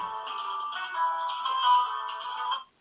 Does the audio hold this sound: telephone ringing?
yes